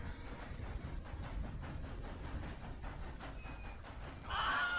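A train passes in the Red Dead Redemption 2 video game, a quiet rolling rumble with faint rhythmic clatter of cars going by, ending in a brighter rising swell of noise.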